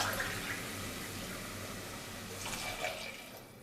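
Water poured from a measuring cup into a pressure cooker pot of mushroom pulao with rice, a steady broadband wash of liquid that swells again near the end, close and continuous.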